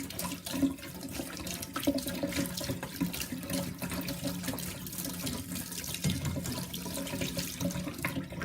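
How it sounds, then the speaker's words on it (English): Tap water runs steadily over tomato seeds being rinsed in a sieve, a continuous close splashing rush with faint clatters of the sieve, no voices. "I'm just going to rinse it under the tap"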